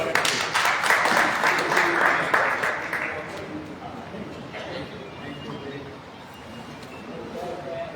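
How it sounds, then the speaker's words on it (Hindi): A crowd at a Punjabi memorial gathering gives a brief round of applause for a speaker, the clapping strongest in the first few seconds and fading as background murmur and talk continue. "जोरदार तालियों से स्वागत है।"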